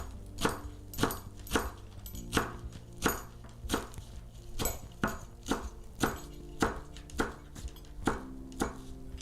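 Coriander is chopped with a sharp knife on a board: steady, evenly spaced crisp thunks, about two per second, close and alone with no talk.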